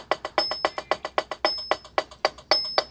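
A fast drum-machine click pulses steadily at 225 BPM, each crisp tick evenly spaced and close, about fifteen hits in three seconds with no voice over it.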